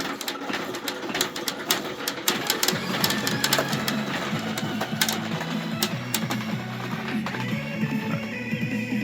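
A Sanyo Sumapachi pachinko machine runs with a dense, fast clatter of metal balls and rapid ticking, over a steady mechanical and electronic hum that grows fuller partway through, close and continuous.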